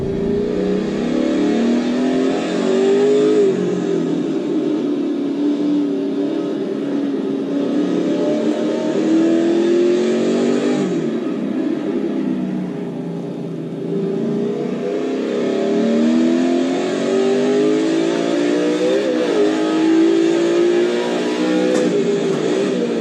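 A Group A Holden Commodore race car in a racing sim game revs and accelerates through the gears around a technical track, a loud, continuous engine note rising and falling with shifts.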